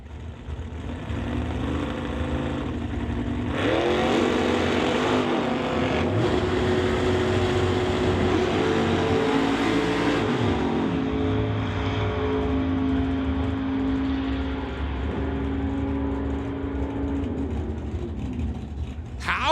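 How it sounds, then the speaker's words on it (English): Chevrolet Corvette and Camaro drag racing down a strip, a loud sustained engine roar that swells as the cars launch and holds for several seconds before easing into a distant drone. "Got the old Corvette coming on up your TCS side to race Steve Lowe in the Camaro over on the Lordco"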